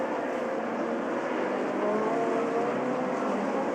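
DTM race cars, including Johnny Cicotto's number 3 BMW, run at the Norisring street circuit in 1991, giving off a steady, distant engine roar with a faint rising whine.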